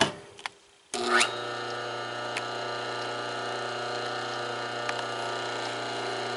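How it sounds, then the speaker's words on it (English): A large furnace blower fan motor with a dented housing runs on its own. It starts after a brief click and ramp-up, then settles into a steady, close, droning hum with occasional faint ticks. "I better show you what the motor sounds like all by itself here"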